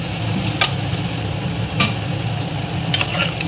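Potato and ridge gourd are stirred in a pan with a little water and poppy seed paste, giving a steady low simmering bubble with a few soft scraping strokes from a spatula. No voices are heard.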